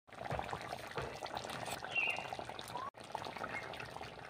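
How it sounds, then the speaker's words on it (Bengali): Mung bean dal poured slowly into a pan of fried spices for a fish-head moong dal, a steady soft liquid stream with light trickling and sizzling that breaks off briefly near the end. "এবারে আমি ডালটা আস্তে আস্তে ঢেলে নেব।"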